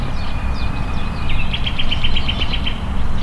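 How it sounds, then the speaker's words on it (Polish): Several small birds chirp and trill in a botanical garden during spring rain, a quick repeated series of bright notes over a constant low background rumble. "co zresztą słychać w tle, ten śpiew ptaków."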